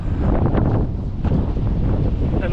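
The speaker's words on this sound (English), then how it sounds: "These gusts. Look at this." Strong wind gusts roar steadily across a sailboat sheltered in harbour on a passage toward Bermuda, loud and continuous buffeting with a rush at the end.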